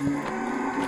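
A cow moos once at a livestock sale barn, a short close bellow with a steady low tone rising over busy background noise.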